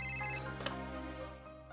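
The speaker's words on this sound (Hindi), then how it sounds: "ये पक्का त्रिपुरा का ही फोन होगा।" Telephone ringing in a Hindi-dubbed Telugu horror film, a steady electronic ring with tonal bands repeating close and clear throughout, no talking.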